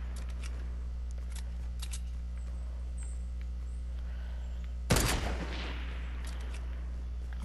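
A single sharp sniper shot cracks out in a multiplayer shooter game, one loud sudden report with a short decaying tail over a steady low background hum and faint scattered clicks, with no talking.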